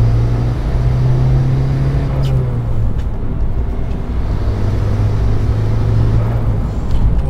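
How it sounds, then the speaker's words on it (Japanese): A Suzuki Jimny Sierra carrying a heavy 60 kg roof tent drives along, its cabin filled with a steady low engine and road rumble, with a couple of faint bumps as it rolls over road seams. "ここ意外と路面継ぎ目がドッタンバッタンするんで"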